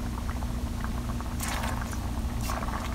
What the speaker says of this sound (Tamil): இப்போ நம்மளோட குழம்பும் நல்லா கொதிச்சிருச்சு, பாருங்கள் எவ்வளோ சூப்பராக கொதிச்சிருச்சு